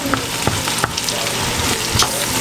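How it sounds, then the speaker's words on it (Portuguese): Spring onions frying in a pan with butter and celery, a loud steady sizzle close by, broken by a few clinks and scrapes of stirring. "Aqui tem, ó, uma cebolinha fritando."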